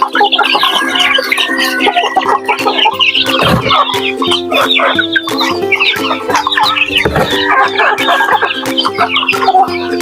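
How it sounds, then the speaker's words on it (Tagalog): Native chickens and chicks being fed: loud, close, continuous clucking and high peeping from a flock, with a couple of deeper thumps, over a steady mechanical hum. "Dito naman tayo magpakain sa ating mga sisiw mga idol."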